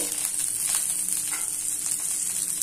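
Cashews and raisins frying in ghee give a steady, close sizzle with soft crackles throughout, no talking over it.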